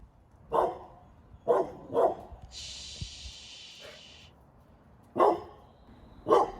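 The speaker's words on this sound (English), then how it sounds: "he goes back to the fence line and ends up barking again" A dog barks several times at a fence in separate bursts, close by, with a short hissing noise in the middle and quiet pauses between barks.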